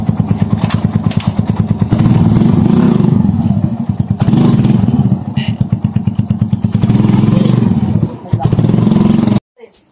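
A Suzuki motorcycle fitted with a new DID 15/45 chain set revs hard close by, its loud pulsing exhaust rising and falling in repeated bursts before cutting off abruptly.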